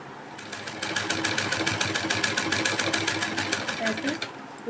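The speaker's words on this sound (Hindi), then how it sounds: "और इसे अब हम ऐसे बैठी सिलाई लगाएंगे। बिल्कुल किनारे किनारे सिलाई चल रही है।" A sewing machine runs steadily, sewing a close edge stitch along a folded blouse strip, its rapid even whirring and clicking continuous for several seconds after a brief start-up.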